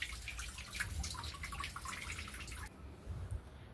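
Water from a fountain feature splashes and patters steadily in a heated swimming pool at a farmhouse bungalow, a continuous close trickling wash with low rumble that drops away briefly near the end.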